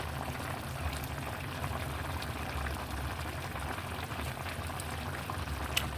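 Kinamatisang chicken broth simmers in a pot, a steady bubbling boil that runs evenly throughout at moderate level, with no voices.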